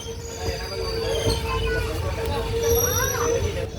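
A train on the Punalur to Aryankavu line braking into Kazhuthurutty station, steel wheels squealing in sustained high whines over a rumbling carriage, with people talking nearby.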